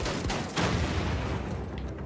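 Dense, continuous gunfire and booming impacts from the Wolfenstein 2 shooter game, loud and close throughout with a sharper burst near the middle and no talking.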